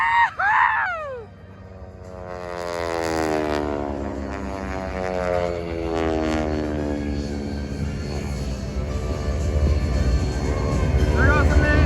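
Aeroshell Aerobatic Team propeller planes pass overhead at the Rose City Airfest airshow, a loud droning roar that sweeps through and slowly fades while a crowd cheers and a voice shouts at the start.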